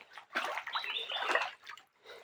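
A cold river, running a little high after the season's first rain, gurgles and sloshes nearby in a moderately loud, uneven flow that eases toward the end.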